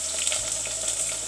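Onions fry in a hot pot, giving a steady, close, hissing sizzle that stays even throughout the short moment.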